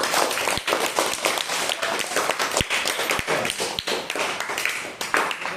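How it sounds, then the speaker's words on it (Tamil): A classroom group claps together in a dense, steady burst of applause that lasts throughout, loud and close, with sharp individual claps standing out. "அவனுக்கு எல்லாம் ஒரு ஜோர ஒரு கை தட்டு."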